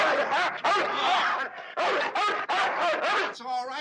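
A dog barks in short, sharp bursts inside an elevator in the 1985 film Into the Night, close and loud in quick succession, ending with a brief yip.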